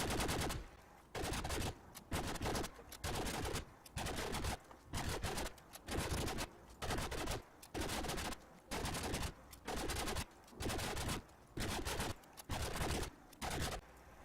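Wattz 3000 laser gun in Fallout 4 firing fusion cells in steady sustained bursts, roughly a second each, separated by short pauses, repeating throughout at moderate loudness with no speech.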